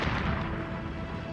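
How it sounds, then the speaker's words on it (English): A small explosion at a plant making rocket fuel components produces a dull, sustained rumbling boom that fills the clip with heavy low-end roar, steady and loud throughout. "So when the first small explosion rocks the plant,"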